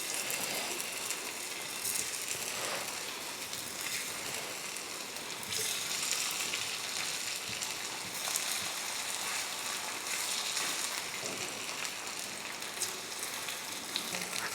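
Pieces of elephant foot yam fry in hot oil on a dosa pan, giving an even, continuous sizzle with light crackling that stays steady throughout, close and moderately loud, with no talk.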